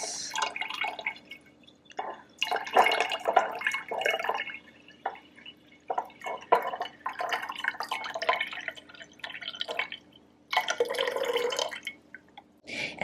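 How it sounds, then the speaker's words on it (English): Water poured onto microgreen seeds to soak them, heard as bursts of splashing and dripping trickles with short pauses between pours, close and fairly quiet. "I'm pouring in another round of water to soak them for another 3 minutes."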